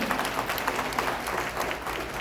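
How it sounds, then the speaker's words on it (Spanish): Applause from a church congregation during an evening service, a dense, steady wash of many hands clapping at moderate distance, with no one speaking over it. "Démosle un fuerte aplauso a David y a Liliana."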